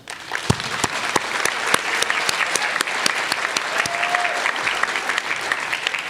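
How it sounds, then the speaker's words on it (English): Audience at a university nursing pinning ceremony applauds steadily in a large hall, dense clapping with a few sharp, louder claps standing out near the microphone. "Let's give them a round of applause."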